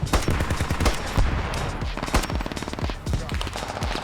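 Rapid, repeated gunfire rattles continuously in close bursts, loud and sustained, like automatic weapons firing in a game.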